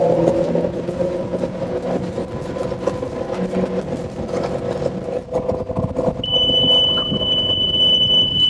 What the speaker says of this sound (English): Not sure what's going on, but I just heard an alarm here. It looks like I got low oil pressure.